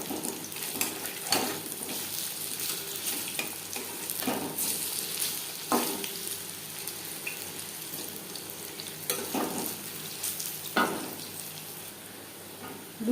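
Jute leaf pakoras fry in hot oil, a steady close sizzle broken by occasional scrapes and clinks as the fritters are turned, with no voices.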